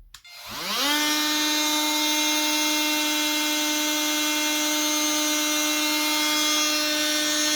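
A Makita 18V DTM51Z oscillating multi-tool whines up and holds a steady, loud buzzing drone with a constant high-pitched tone while cutting, running alone without pauses.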